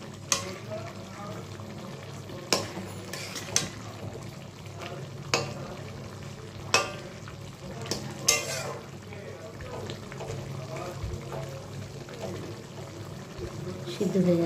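Chicken makhani simmering in a pan with a low continuous bubbling sizzle, punctuated by several sharp spoon knocks and scrapes against the pan, close by and moderately loud, with faint talk underneath.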